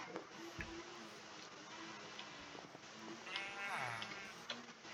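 Sheep in Minecraft bleat in short wavering calls, a couple near and one trembling bleat later, over light clicking game sounds and soft background noise.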